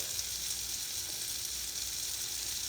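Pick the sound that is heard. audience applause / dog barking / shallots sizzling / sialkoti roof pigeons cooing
shallots sizzling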